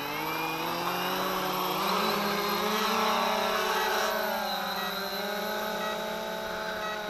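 A Cheerson CX-20 quadcopter drone flying in manual mode gives a steady, loud whirring buzz of spinning propellers. The motor pitch drifts slightly up and down, with no speech.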